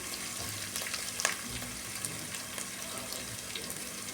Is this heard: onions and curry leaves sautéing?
yes